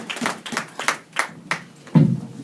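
A church congregation applauding during a service: a short burst of hand clapping, moderately close, ragged and uneven, with a few distinct claps before a louder thump at the end.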